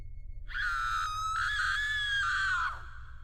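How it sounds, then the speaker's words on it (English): A woman screams in horror, one long shrill cry of about two seconds that wavers briefly and then falls away, over a low background hum. "She screamed"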